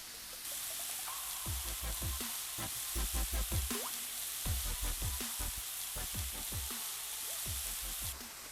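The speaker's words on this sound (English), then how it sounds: "Let that caramelize. Let that steak caramelize." Thin-sliced steak sizzles steadily in a stir-fry pan, with repeated clacks and scrapes of stirring or utensils against the pan over the constant frying hiss, close up and without talk.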